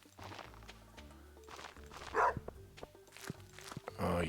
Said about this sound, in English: Oh, yes, doggy. I can't keep you locked up